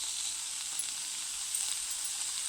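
Finely chopped mushrooms with a splash of soy sauce sauté in a hot pan, giving a steady, even sizzle that stays close and constant throughout with no voices.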